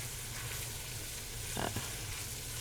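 Carrots glazed with black pepper and cabbage sizzle and fry steadily in a pan, a continuous close crackle with a brief louder burst partway through.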